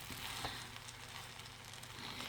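Singaporean fried rice frying in a pan, a steady close sizzle and crackle of rice in hot oil running without pause.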